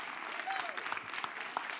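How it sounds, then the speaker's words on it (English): An audience at a speakers' showcase claps faintly and continuously, a quiet, even patter heard from some distance. "Keep on clapping."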